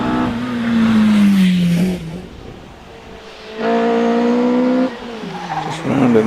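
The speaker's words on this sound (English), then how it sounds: "Richard Price starts up the hill in the Caterham 7." A Caterham 7 race car accelerates up a Prescott hillclimb course. The engine revs high and loud through rising gears, lifts off, then surges hard again, with tire noise and a commentator talking over it.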